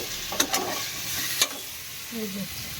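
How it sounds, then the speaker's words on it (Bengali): Potatoes frying in a pan for aloo dum, a soft steady sizzle with a few sharp scraping stirs near the start and a brief hiss near the end, no talking. "আলুটা প্রথমে ভেজে নেবো লাল লাল করে"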